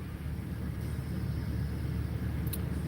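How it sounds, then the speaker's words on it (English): A truck engine idling while warming up on a cold, rainy day, a steady low rumble heard from inside the cab, continuous and unchanging with no talk. "just kind of sitting here warming up the truck a little bit"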